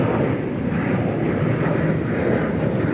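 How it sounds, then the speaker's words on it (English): A jet airliner takes off from the west side of DFW Airport in Texas, bound for San Antonio, its engines producing a loud, steady, broadband roar that holds constant through the whole stretch with no voices over it. "That is a plane that is just taking off to San Antonio, Texas, from over on the west side where we are."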